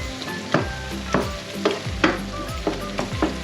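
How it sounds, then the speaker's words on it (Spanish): Pounded garlic and parsley paste sautéing in a pan, with a soft sizzle under repeated close knocks and scrapes of a spoon stirring against the pan in an uneven rhythm. "Le añadimos la mezcla del mortero, el ajito con el perejil, y lo dejamos que se poche, que se rehogue"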